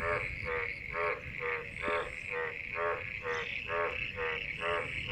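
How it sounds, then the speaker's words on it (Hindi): A dense chorus of frogs croaking in steady, pulsing bursts, many voices overlapping close by against a constant low background hum. "ये देखें कितनी आवाज़ें आ रही हैं यहाँ पर मेंढकों की।"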